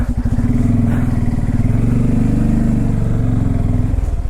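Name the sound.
Bajaj Pulsar N250 motorcycle riding off-road through mud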